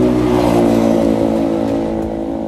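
A Kawasaki ZX25R motorcycle engine fitted with an aftermarket exhaust runs loud and close in a sustained high rev, holding a steady buzzing drone that tapers slightly toward the end.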